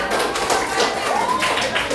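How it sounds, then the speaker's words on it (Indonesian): Applause from a group of people at a school gathering, steady dense clapping throughout with voices mixed underneath. "Oke, tepuk tangan."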